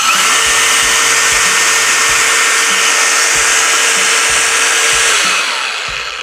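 DeWalt 407 cordless angle grinder on a 5 Ah battery giving a loud, smooth and even motor whine for about five seconds, with a high steady tone before it slowly fades down.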